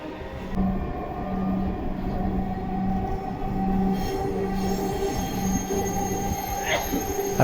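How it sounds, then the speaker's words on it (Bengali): Inside a moving Bangladesh metro rail train, a steady loud rumble carries sustained tonal wheel squeals and motor whine throughout, with a rising whistle-like tone near the end. "এদিকে আমরা ট্রেনটিতে উঠে গেলাম এবং ট্রেন চলা শুরু করলো।"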